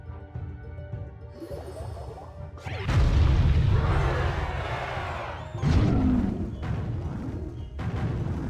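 An explosion in the mobile strategy game Clash Royale bursts out as a loud crashing boom, followed by a second impact a few seconds later, with game effects around it.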